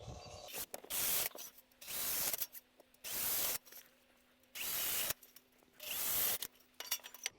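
Five bursts of a power drill boring 4.5 mm pilot holes for metal soffit roofing, each about half a second to a second, separated by short pauses, close and fairly loud.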